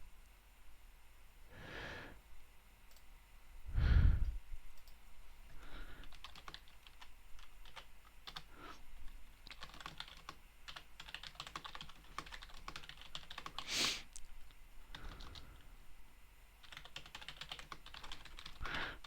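Keystrokes on a computer keyboard come in quiet, irregular bursts and clusters across a long stretch, with occasional louder thumps and rustles in a still room.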